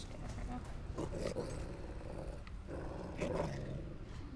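A dog in Fable 3 growls low and rumbling in annoyance, a continuous throaty snarl with a couple of swelling bursts, heard under a steady background ambience.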